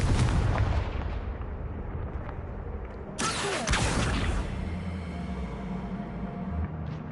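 Hogwarts Legacy combat with the Confringo blasting spell: a burst of heavy, booming explosive blasts and rumbling impacts fills the scene, with one sharp blast standing out midway amid continuous loud crackling noise.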